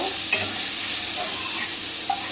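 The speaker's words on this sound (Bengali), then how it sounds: "এ দেখো মাছটা ভাজা হয়ে গেছে, এখন আমি মাছটা তুলে নেব।" Fish frying in a pan of oil, a loud, dense, continuous sizzle close by with faint scraping as pieces are moved, steady across the short span and free of speech.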